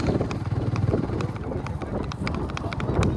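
A mare's hooves clop in a quick, uneven rhythm on a hard surface, with wind buffeting the microphone.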